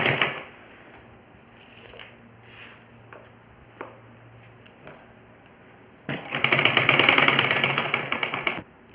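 A sewing machine stitches along the edge and corner of a kurta neckline. It begins with a faint, steady low hum and scattered light knocks, then breaks into a loud, dense rattling run for the last few seconds.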